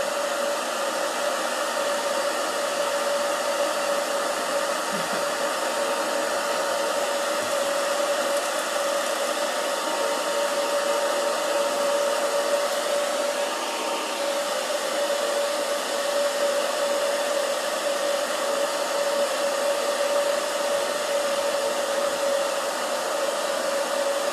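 A blow dryer runs continuously for the whole stretch, a steady airy whoosh with a constant whine, close and unchanging, with no voices.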